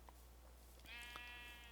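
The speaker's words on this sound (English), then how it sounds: "Okay, so we've got lots of sheep." A Minecraft sheep gives one short, clear bleat midway through, close and fairly loud against a quiet, low hum.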